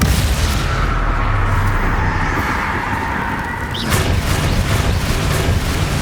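A loud, sustained magical blast from the Confringo spell in Hogwarts Legacy rumbles over dense game noise, with a sharper burst near the end.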